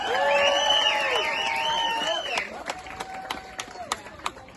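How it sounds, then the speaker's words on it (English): A crowd at an outdoor polar plunge cheers and whoops loudly at first. It then breaks into scattered, sharp claps as the cheering dies away. "How about a great round of applause for that?"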